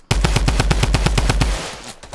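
Rapid machine-gun fire in a shooting video game, a steady burst of about a dozen evenly spaced loud shots that then stops and leaves a fading tail.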